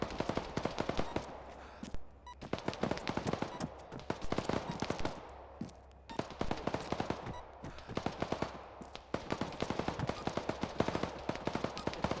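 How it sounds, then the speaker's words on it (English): Gunfire in a military simulation game, dense rattling bursts of automatic and single shots continuing steadily for the whole stretch, loud and close with brief lulls between volleys. "It's literally shooting you."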